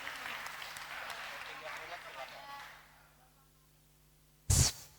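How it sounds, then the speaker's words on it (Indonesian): An audience applauds at a talk, the clapping fading out over a few seconds, then a sudden loud burst of noise near the end. "Boleh dong beri tepuk tangan sekali lagi kepada narasumber kita ini."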